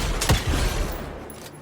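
A rifle firing in the Evil West action game, a quick cluster of sharp shots and blasts that fades away within a second or two.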